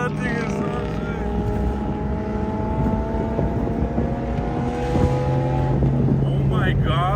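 A Ford Foxbody Mustang with a 1JZ turbo engine drives past, its steady loud engine roar holding for several seconds with rising whine tones, while people talk excitedly over it.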